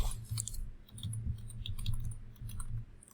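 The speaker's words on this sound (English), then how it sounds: "I'm going to go ahead and type in." Someone types on a computer keyboard, a quick, close run of light plastic key clicks in irregular bursts, heard alone without talk.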